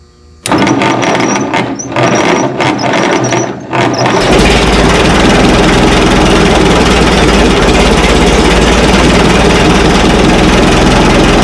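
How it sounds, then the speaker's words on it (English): A pulling tractor's engine cranks over in choppy bursts, then catches and roars into a loud, steady, rough idle, close up and with no speech over it. "Sure it's in neutral, the clutch is disengaged, ignition on, turn the fuel on."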